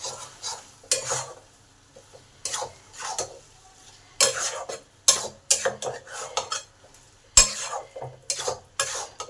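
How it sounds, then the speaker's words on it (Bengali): A spoon scrapes and stirs ridge gourd peel paste in a pan, producing irregular bursts of clatter against the metal over a faint background sizzle, close and fairly loud. "এবার এই ঝিঙের খসা বাটাটাকে ভালো করে নেড়ে নেড়ে শুকনো করে নিতে হবে।"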